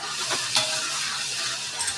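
Puffed rice (mamra) tempered in a pan sizzles steadily at close range, with a spoon stirring and scraping through it and occasional metallic taps, no voices.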